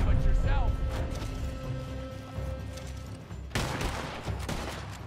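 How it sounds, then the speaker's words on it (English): Gunfire in the video game Red Dead Online during a bounty shootout: several sharp shots, with a louder burst near the end, mixed with other game noises. "A few shots, got one in the corner."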